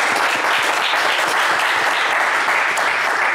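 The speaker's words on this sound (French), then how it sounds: "On va l'applaudir très fort." Studio audience of a French TV game show applauds loudly and steadily after a contestant's good result, a dense, close burst of clapping filling the whole moment without talk.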